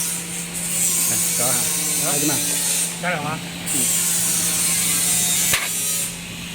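A 5mm nuts chocolate depositor machine runs with a steady mechanical whirr and faint ratcheting, while someone speaks over it for most of the clip.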